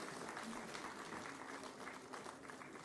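Steady audience applause fills the hall at an agricultural research council's foundation day award ceremony, a continuous wash of many hands clapping, heard at a moderate distance.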